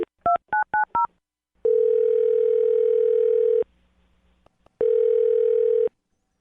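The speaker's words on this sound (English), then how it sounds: "I'm going to dial her phone number right now" A telephone number is keyed in as a quick run of five short touch-tone beeps, followed by two long, steady ringback tones separated by a pause, with no talking.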